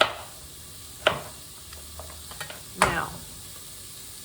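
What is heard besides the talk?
onions sizzling in a soup pot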